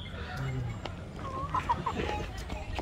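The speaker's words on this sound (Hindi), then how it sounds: "तो एक कड़कनाथ मुर्गा ये रहा" A black Kadaknath rooster at an expo gives a few soft, quick clucks at middle distance, faint under steady crowd murmur and nearby talking.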